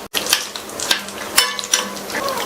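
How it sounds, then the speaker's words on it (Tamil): Cashews frying in melted ghee for payasam, with light scraping and clinking as a spoon stirs the pan, a few sharper knocks over a soft continuous sizzle, close and moderately loud. "சேர்த்த இந்த முந்திரியெல்லாம் லைட்டாக அதனுடைய கலர் மாதிரி வறுபடட்டும்."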